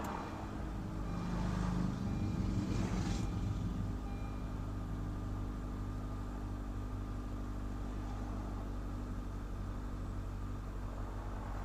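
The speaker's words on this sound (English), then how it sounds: "Turn off all systems, press confirm, and then start the vehicle." A car engine cranks and catches during a battery test with a handheld tester, then settles into a steady low idle rumble that continues close by, with no talk.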